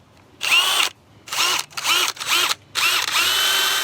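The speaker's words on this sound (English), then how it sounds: "I have to pre-drill these rafters because they're kind of hard." A power drill pre-drills hard white oak rafters in four quick bursts, each a high whining spin that bogs and rises as the bit bites, separated by short pauses.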